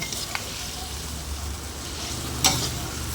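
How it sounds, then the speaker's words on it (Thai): Fish being stir-fried and tossed in a curry paste in a pan, giving a soft continuous sizzle with a couple of brief scraping stirs, one stronger near the end. "เดี๋ยวเราก็จะใส่ปลาลงไปเลยนะคะ นี่จ้าเราก็ทำเอาปลาลงไปนะคะ ก็ผัดคลุกเคล้าให้เข้ากัน"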